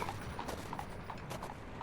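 Horses' hooves clip-clop with carriages along a foggy street, a steady, fairly quiet patter of hoof strikes repeating under a low ambient hum.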